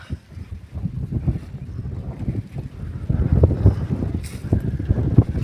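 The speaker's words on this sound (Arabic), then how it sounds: "نتمنى من الله ما يكونش الريح كيشوش الاخوان" Wind buffets the microphone outdoors on a hillside overlooking the sea near Tangier, a low rumbling roar that swells and gusts, growing stronger in the second half.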